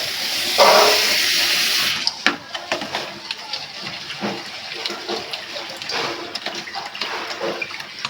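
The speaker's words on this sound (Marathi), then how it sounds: "आता तांदूळ डाळ मस्त धुवून घेऊ अशा पाण्यात." Rice and dal are washed in water, first a steady rush of running water, then irregular sloshing and splashing of grains being rinsed by hand, close up.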